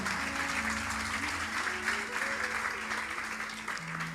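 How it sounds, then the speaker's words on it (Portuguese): Church congregation applauding, a sustained wash of clapping from many hands, with a sustained tone and faint voices underneath. "Você pode aplaudir pela vida da nossa amada irmã?"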